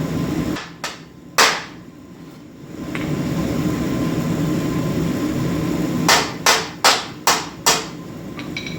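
Sharp metal hammer blows strike a heated car header, fenderwell-style tube steel, with one early whack then a rapid run of five impacts near the end over a steady torch-like hiss and shop ambience.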